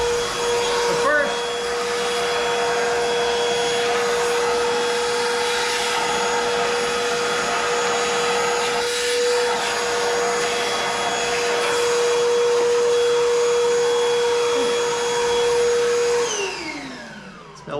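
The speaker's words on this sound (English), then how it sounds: "Milwaukee portable vacuums are pretty dang handy." Milwaukee portable vacuum cleaner running steadily in a shop during a Kenworth K100 rebuild, a loud constant whine with airflow hiss that winds down at the end.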